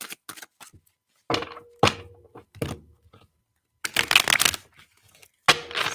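Oracle cards shuffled by hand during a live reading, several loud close bursts of riffling and thumping separated by quiet gaps, with no talk.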